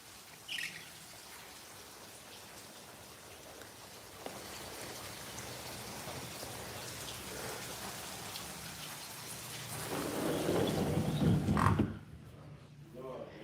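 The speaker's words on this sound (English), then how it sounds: "It's raining. It's raining." Steady rain falls outdoors as a continuous hiss of drops that swells louder near the end and then cuts off abruptly.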